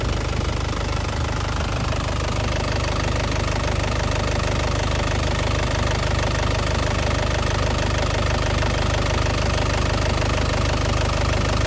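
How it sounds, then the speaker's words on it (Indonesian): A hot 2007 Isuzu Panther LS Turbo diesel engine idles up close with a steady, dense clatter and a rhythmic knock. The sound holds constant with no revving and no voices. "Kita lihat mesinnya, ini kondisi sudah panas."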